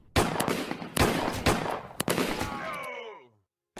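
Battle gunfire in a stop-motion war film: dense overlapping rifle and machine-gun shots with several sharp loud cracks, ending in a ringing, decaying tail, close and intense, with no voices.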